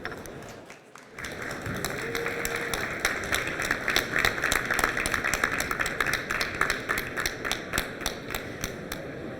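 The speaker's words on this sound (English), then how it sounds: "Please welcome it with your support it with your applause." An audience at a recovery forum conference applauds the signing of a cooperation agreement, a dense, steady wash of many hands clapping that starts abruptly and carries on evenly throughout.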